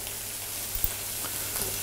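Pork loin steak stuffed with liver sausage and apples sizzles in a hot pan with a steady frying hiss, broken by a few soft clicks and pops.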